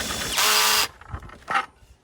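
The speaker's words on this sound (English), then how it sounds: "So that's as far as the drill will send it." A power drill with a driver bit winds nuts down on a triangle-shaped garden room build, giving a loud, strained burst of whirring that cuts off abruptly, followed by a few softer clicks and knocks.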